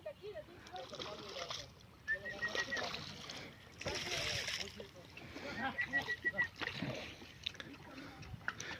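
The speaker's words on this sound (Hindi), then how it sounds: "कुत्ता पानी में तैर रहे हैं" A dog swims and splashes in the Kabul River, with water sloshing and splattering at close range through the clip while people talk nearby.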